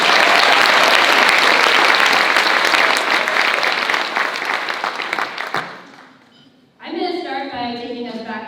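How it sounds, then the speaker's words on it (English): A crowd applauds loudly, the clapping gradually thinning and fading out; after a brief lull, a person starts speaking. "We can just have a round of applause for everybody."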